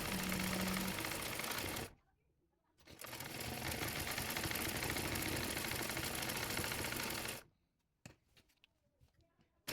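A sewing machine stitches a size 38 princess cut blouse in two long, close, loud whirring runs separated by a brief stop, then falls quiet near the end.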